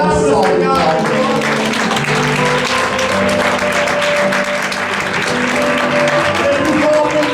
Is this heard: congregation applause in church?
yes